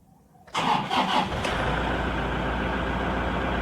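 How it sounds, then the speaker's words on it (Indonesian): A car engine cranks briefly and catches after an ECU reset, then settles into a steady, even idle hum that continues alone at close range. "Lalu kita akan starter kita biarkan idle sampai normal kembali."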